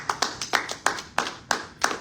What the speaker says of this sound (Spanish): Le doy un aplauso al Señor.